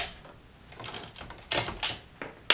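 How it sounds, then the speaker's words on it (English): Typewriter keys struck on a manual machine, a few crisp clacks spaced irregularly with louder sharp hits near the end, close and alone. "A lot of people think that typing on a typewriter requires a strong key press like this"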